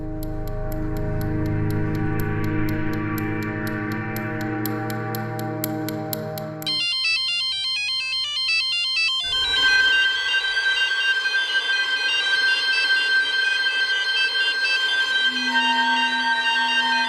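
A phone rings loudly with an electronic melodic ringtone that plays on for about seventeen seconds, its tune shifting pattern partway through, with no voices over it.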